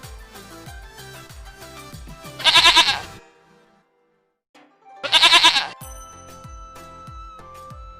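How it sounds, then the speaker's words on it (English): Two loud, wavering goat bleats, each about a second long, stand out over a light, bouncy musical backing in a children's animal-sounds lesson. A quiet gap separates the two calls. "goat,"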